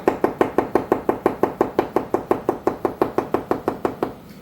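Mushrooms being sliced with a knife on a cutting board, a quick even run of about twenty crisp chops, close and clear, with no talking.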